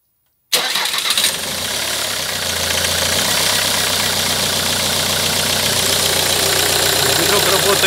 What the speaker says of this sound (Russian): Движок работает, в принципе, ровненько